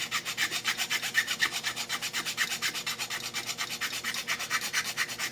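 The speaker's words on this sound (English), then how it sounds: "What you do there is just grab a file" A hand file works the groove of an ABS plastic part in quick, even back-and-forth strokes, about five per second, producing a close, dry rasping with no talk over it.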